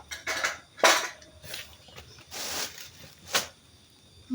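Metal spoons and dishes clatter and clink in a series of sharp, bright knocks at close range, several separate handling sounds spread across the moment, with no voices.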